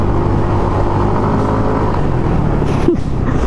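A Yamaha NMAX automatic scooter pulls steadily on throttle during a ride, giving a continuous close engine drone with wind, with a short pitch rise near the end.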